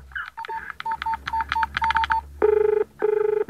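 A phone keypad beeps out a quick string of touch-tones, one after another, then a steady pulsing ring tone begins, clear and close.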